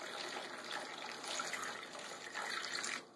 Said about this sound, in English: So we're going to add an inch of water here.